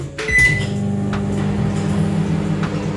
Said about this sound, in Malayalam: ഞാൻ എപ്പോഴും ഓവനിൽ വെച്ചിട്ടാണ് പാല് തിളപ്പിക്കുന്നത്